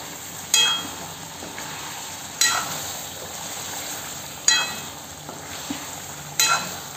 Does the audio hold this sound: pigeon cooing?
no